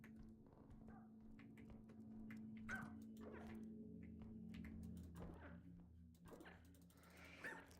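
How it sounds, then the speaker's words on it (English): A dog in the video game REPO gives a few soft barks and whimpering yips, quiet and scattered over a low steady game hum, with no talking. "There's the dog."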